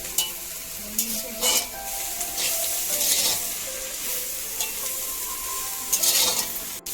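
Prawn pickle with chilies and dry chili flakes sizzles steadily in a pan, broken by repeated scraping stir strokes and a few light utensil clinks, with no talking.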